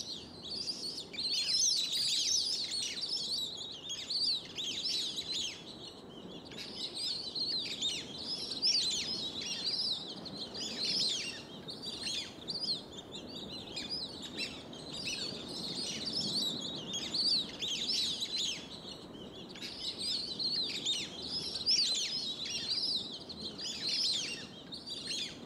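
Continuous high whistling calls from a flock of whistling ducks, chattering and overlapping in rapid bursts, steady throughout with no other sounds.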